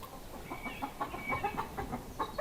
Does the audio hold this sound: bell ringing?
no